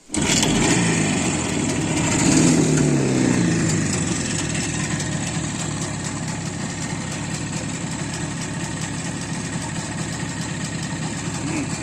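An Izh Jupiter motorcycle engine fires up abruptly and settles into a loud, steady idle close by, with a slight rise in revs just after it starts before evening out into a continuous rattling putter.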